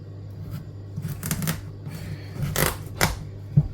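Several crisp knife cuts through vegetables on a board for homemade soup, made with a blunt knife, coming as irregular short chops spaced across a few seconds at close range.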